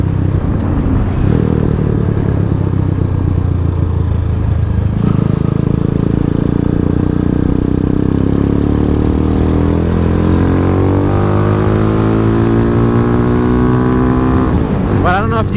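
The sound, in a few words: DF250 motorcycle accelerating in third gear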